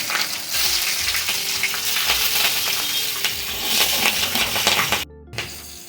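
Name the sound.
green chillies frying in hot oil tempering for ilish curry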